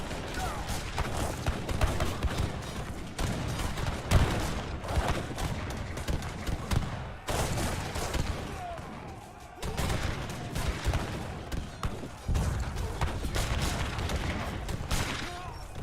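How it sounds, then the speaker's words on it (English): Artillery bombardment in a real-time strategy game match, a dense continuous barrage of booming blasts and crashes rolling on for the whole stretch, with brief lulls between heavy volleys. "Oh, there's an artillery fight."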